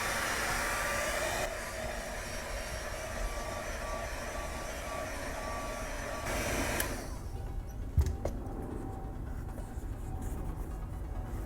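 Heat gun roaring steadily while warming a piece of Boba Fett armor to bend a curve into it, a loud continuous blast that thins slightly partway through, with a brief knock near the end.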